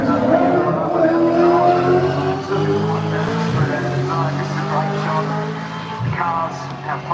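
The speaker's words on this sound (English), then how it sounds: "Cars, how fast they are, over 200 kilometres an hour in all those big fast left-handers at the top of the hill" V8 Supercars at speed around Bathurst's fast left-handers at the top of the hill, a loud continuous engine roar with shifting pitch, heard under someone talking throughout.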